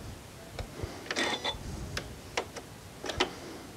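Janome Horizon 9400/9450 sewing machine needle threader being worked, giving a few sharp, close mechanical clicks and ticks spaced irregularly over a quiet room background.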